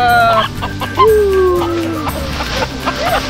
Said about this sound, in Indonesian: ini dia ayam sintu atau ayam kerate yang tadi kami jebak